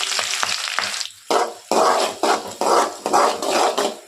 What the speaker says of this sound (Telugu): చూసారు కదా మిర్చి అయితే గోలుతుందండి